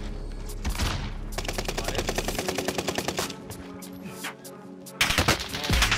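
Rapid automatic gunfire in a video game rattles in fast, even bursts, with a brief pause and then a louder burst near the end.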